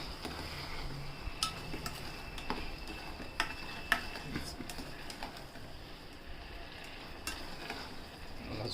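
Carrot halwa being stirred in a pan with ghee, cardamom powder, cashews and raisins: a soft continuous scraping and light sizzle, with sharp utensil clicks against the pan scattered throughout.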